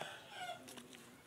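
Chickens clucking in a backyard where ducks are also kept, a few faint, soft clucks close together with no talking.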